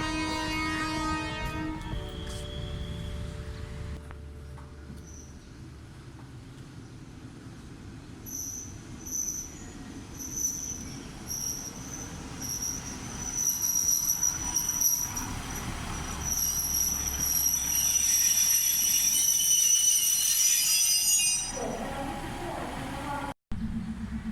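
Local passenger train no. 419 sits at platform 2 of Nakhon Ratchasima railway station with low engine rumble, then high metallic squealing of wheels builds and rings steadily, ending with a sharp click.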